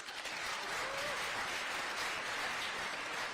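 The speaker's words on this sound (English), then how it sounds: "let's give the mom and dads a round of applause, guys" Audience at a high school senior scholarship event applauding the parents, a steady, hissing wash of many hands clapping at a distance, even and continuous.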